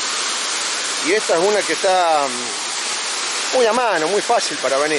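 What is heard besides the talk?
waterfall at Lágrima del Indio, Córdoba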